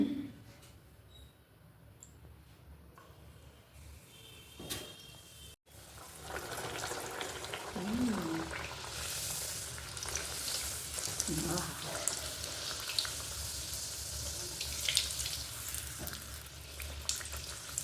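Food frying in hot oil, a faint room tone at first, then a louder steady sizzle with scattered pops and crackles that continues to the end, with some indistinct voices nearby.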